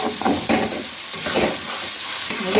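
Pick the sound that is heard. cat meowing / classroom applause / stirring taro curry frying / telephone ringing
stirring taro curry frying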